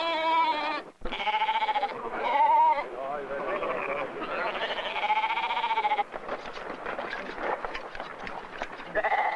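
Sheep bleat repeatedly during a summer roundup on the Faroe Islands, several wavering, overlapping calls from a flock close by, with someone speaking over part of the calls.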